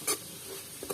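A curry mixture stirred in a pan, giving soft scraping strokes with a brief sizzle-like rustle at the start and end of a short, close pass.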